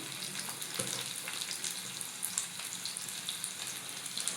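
Oil sizzling in a hot pan while a masala omelette is started, a steady faint crackle with scattered small pops and no talking.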